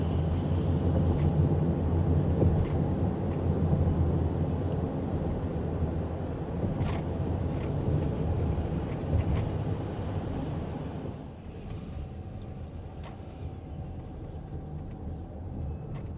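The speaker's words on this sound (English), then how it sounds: "the engine drone could be pretty well maintained, well manipulated, stays fairly quiet" Steady low engine drone and road rumble inside a Toyota Sienna minivan driving at night, continuous and moderately loud, easing slightly later with faint ticks and clicks over the hum.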